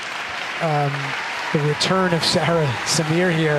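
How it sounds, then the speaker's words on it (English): Applause from the audience in a weightlifting arena at a world championship, with Egypt's Sara Samir competing, rolls as a steady, broad wash under a commentator talking over it. "we're hearing a nice round of applause in the background"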